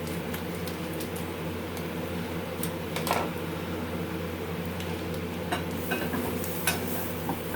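Flour stirs in a hot pan for a shallot cream sauce, a low steady sizzle with faint scraping strokes of a utensil and a steady hum in the background, close and continuous.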